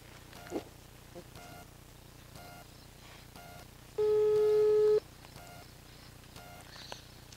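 A single telephone ringback tone sounds for about a second as a friend is called, faint and steady against quiet outdoor background noise with faint animal sounds.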